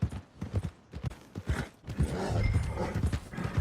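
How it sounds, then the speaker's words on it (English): A horse's hooves clip-clop at a steady walking rhythm on a dirt path in the Red Dead Redemption 2 video game, close and distinct, with ambient outdoor noise building under the steps. "Stables are just up ahead."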